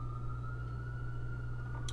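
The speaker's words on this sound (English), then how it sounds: "there goes sirens." Emergency sirens passing outside, a faint steady wail held in the background with no voices.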